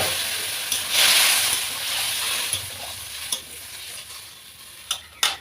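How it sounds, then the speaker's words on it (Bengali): Water pours into a pan of drumstick pieces frying with salt and turmeric, setting off a loud hissing surge that settles back into a bubbling sizzle, with several spatula knocks toward the end. "এবার জল দিয়ে দেবো।"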